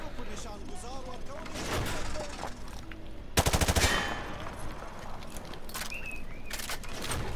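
A rapid burst of M4 rifle fire in the Modern Warfare 2 campaign remaster, with sharp automatic shots over a steady game-world backdrop of ambience and birds.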